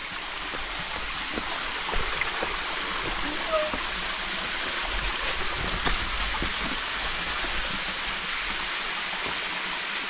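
Water from a waterfall stream rushes and burbles steadily in a continuous broadband wash, flowing nearby with a low current, with no pauses.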